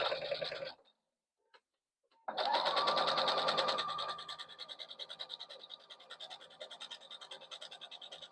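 A sewing machine stitches a lining piece to an outer bag panel, starting with a short burst, pausing in silence, then running in a long steady whir that slows into a rhythmic, pulsing stitch.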